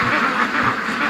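Free-range ducks quack in a quick, close, loud run of overlapping calls, a busy flock chattering without pause.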